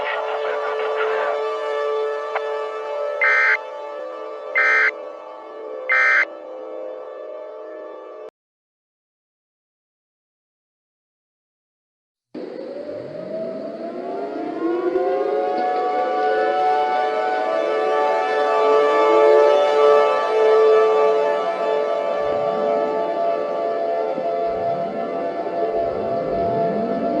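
A civil defense siren in an emergency broadcast scenario: first a steady buzzing alert tone with three short beeps, then a pause of silence, then a loud wailing siren that rises and falls repeatedly and sustains to the end.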